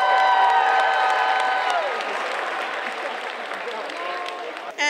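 A crowd at a high school fall sports rally cheers and applauds the cheer team, with whoops and shouts over clapping that swells at first and then gradually fades, while talk runs underneath.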